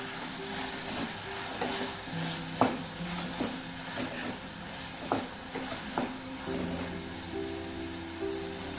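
Shallots sauté with kulambu powder in a pan, giving a quiet, steady sizzle and frying hiss. Occasional soft clicks of a spoon stirring sound against the pan.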